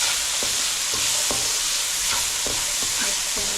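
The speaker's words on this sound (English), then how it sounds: "Mix them well." Pasta ingredients for a spicy Nepalese masala pasta are stirred and mixed in a hot pan, a steady sizzle under repeated scraping strokes of a utensil, close and fairly loud, with no talking.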